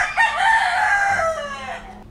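A Tagalog fighting rooster crows once, a loud, close, drawn-out call that rises and then trails off over about two seconds, with no other sounds around it.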